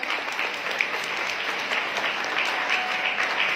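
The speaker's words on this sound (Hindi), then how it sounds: "एक बार जोरदार तालियां पृथ्वीराज" Loud audience applause for a speaker's tribute to street and drain cleaners, a steady dense wash of clapping filling the whole stretch with no voices over it.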